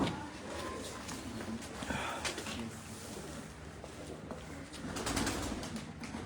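A steady chorus of Piplan pigeons cooing on a rooftop, low rolling calls overlapping throughout with faint background voices and movement.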